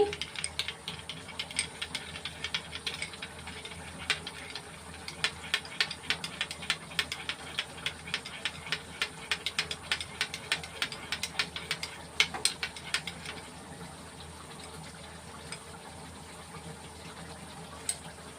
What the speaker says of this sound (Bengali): টক দইটা ফেটিয়ে নিচ্ছি